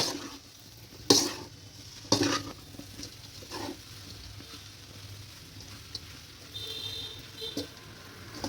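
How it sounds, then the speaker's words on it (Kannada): Salted okra (bhindi) frying over a medium flame for a bhindi palya makes a soft, steady sizzle close by. Sharp spoon knocks against the pan cut through it near the start, with lighter stirring scrapes later and no voices. "ಮೀಡಿಯಮ್ ಫ್ಲೇಮ್ ಮಾಡಿಬಿಟ್ಟು ಒಂದು 5ರಿಂದ 10 ನಿಮಿಷ ಚೆನ್ನಾಗಿ ಫ್ರೈ ಮಾಡ್ಕೊಳ್ಳಿ"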